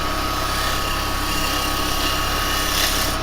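A woodturning lathe with a spindle gouge cutting a bowl, giving a steady, loud, grainy hiss of the cut over a constant motor drone, with no pauses.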